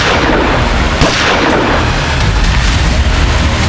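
Gunshot fire bursts into a loud, dense blast with a sharp crack near the one-second mark, followed by a sustained roaring, noisy wash with no voices.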